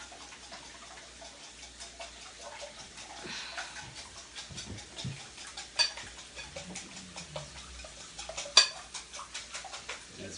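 Eggs are whisked for a frittata with a quick wrist action, giving a steady, light, rapid tapping and clinking of the whisk against the bowl, fairly faint, with a few sharper knocks.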